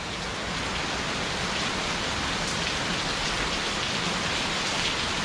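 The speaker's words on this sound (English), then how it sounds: "Hope you enjoy the rain." Steady, even rain falls in Rayong, Thailand, a dense unbroken hiss of drops on surfaces that carries on without pause and with no voices over it.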